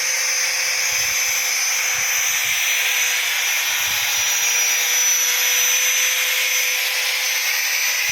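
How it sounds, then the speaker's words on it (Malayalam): Power drill boring holes in a steel arch on a house rooftop, one continuous loud whine that runs steadily with no pauses. "ഇവിടുത്തെ ആർച്ച് കട്ട് ചെയ്ത് കഴിഞ്ഞു ഇനി അവിടെ ഹോൾ എടുത്തുകൊണ്ടിരിക്കുകയാണ്"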